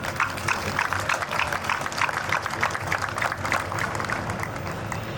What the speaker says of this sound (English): please give them another round of applause, please